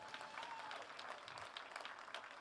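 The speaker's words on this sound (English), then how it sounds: "Give them a big round of applause." Sustained applause from an audience at a USAPL bench press and deadlift powerlifting meet at the 2016 Arnold, a dense, steady wash of clapping filling the hall without a break.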